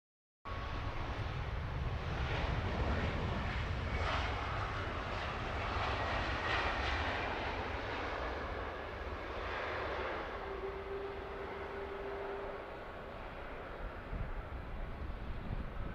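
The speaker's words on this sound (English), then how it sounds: "Beautiful departure, Korean Queen of the Skies in the fading light here at Heathrow." A Korean Air Boeing 747 jet departs Heathrow in fading evening light, a loud, steady engine roar that holds continuously, broad and rumbling, easing slightly toward the end.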